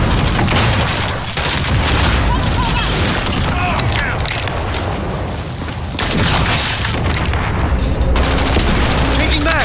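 Dense, continuous gunfire and booming blasts from a Call of Duty Modern Warfare Hardpoint match, with a grenade explosion amid rapid machine-gun bursts, loud and close throughout, with game voices calling out under the battle noise.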